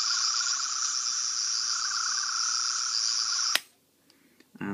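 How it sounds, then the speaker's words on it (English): A toy sonic screwdriver plays the 10th Doctor's sound effect: a steady, bright electronic warble that holds for about three and a half seconds, then cuts off abruptly with a click, leaving near silence and a few faint taps. "that is actually the 10th Doctor's screwdriver noise"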